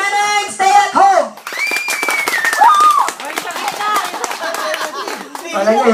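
An audience claps for Neneng Lagalag in a sharp, uneven burst of hand claps that builds in the middle, mixed with overlapping voices and shouts before and after.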